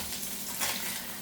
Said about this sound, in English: need to put my onions in here now